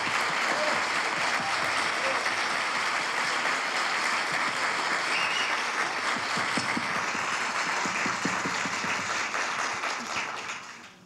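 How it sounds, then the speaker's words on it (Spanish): Sustained audience applause at an awards ceremony in Medellín honoring two colleagues, dense and steady clapping from a large crowd that fades out at the very end. "quiero pedir el aplauso más grande para mis dos compañeros"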